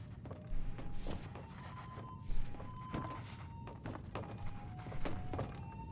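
Wood being chopped in a video game by a worker who splits small pieces for the stove fire, giving irregular dull thunks and knocks, several spaced hits over a continuous low background rumble.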